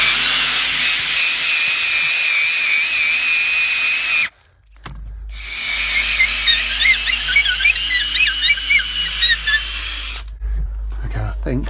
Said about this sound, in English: I'll just drill a little bit more again.